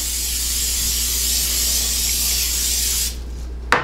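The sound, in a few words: cooking oil spray on baking dish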